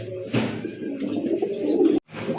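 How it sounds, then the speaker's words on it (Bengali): A raw-turmeric-coloured Bombay pigeon coos in soft, throaty, rolling bursts close by, with light background noise and a brief break near the end. "এই মুহূর্তে দেখতে পাচ্ছেন কাঁচা হলুদের একটা বোম্বাই কবুতর ভাই"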